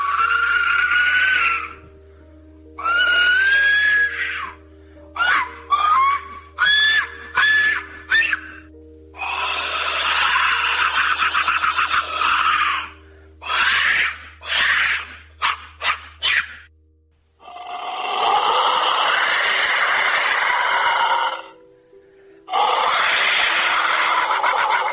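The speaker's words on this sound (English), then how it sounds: "made by Roberto Velázquez, which he calls the whistles of death" A replica Aztec death whistle gives piercing, shrill blasts like human screams, rising and falling in repeated bursts, some short and stuttering, others long and wailing, loud and close.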